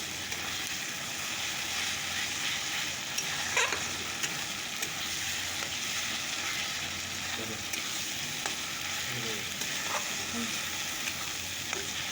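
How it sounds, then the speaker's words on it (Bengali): Spices with cumin and chili fry in hot oil for a fish curry, giving a dense, even sizzle throughout, with occasional light clicks and scrapes from stirring in the pan. "চলো এখন মশলাটাকে একটু কষিয়ে নিই"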